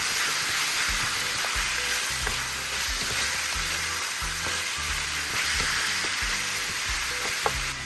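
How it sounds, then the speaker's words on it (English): Peppercorns and garlic fry in a pan for chicken adobo, giving a steady close sizzle with the occasional scrape of stirring and no voices. "So I've added my peppercorns and my garlic. Let it get brown a little bit"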